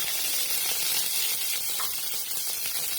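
Mustard seeds, dried and green chillies and coriander tempering in hot oil give a steady broadband sizzle and hiss, close and continuous, with no voices.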